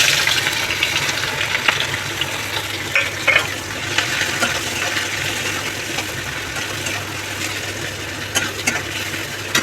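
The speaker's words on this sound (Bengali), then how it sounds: "এইবারে এর মধ্যে দিয়ে দিচ্ছি দুটো শুকনো লঙ্কা, এই কুচে রাখা পেঁয়াজ।" Chopped onion and two dried red chillies frying in hot oil in a home kitchen, a steady dense sizzle with occasional stirring scrapes, close and continuous with no talk.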